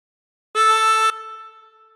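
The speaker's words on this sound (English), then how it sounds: "Breathe in through three and bend the note to produce the A." A single drawn harmonica note on hole three, bent down to A, rings as a bright, reedy tone for about half a second and then fades away in a soft tail.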